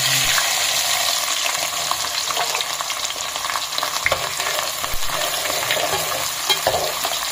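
Small shallots sauté in hot oil with whole spices for mutton kulambu, giving a steady, loud sizzle with scraping stir strokes throughout and no talking.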